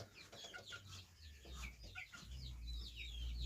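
A bantam hen kept in a small pen clucks softly, a quiet scatter of short, faint clucks and murmurs over about three seconds, with no talking.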